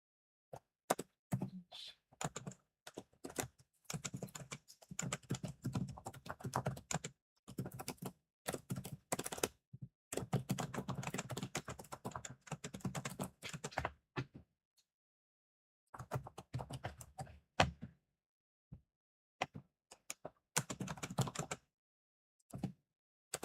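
Bursts of typing on a computer keyboard in a quiet room, with fast clustered key clicks separated by short pauses and a longer silent gap midway, no talking.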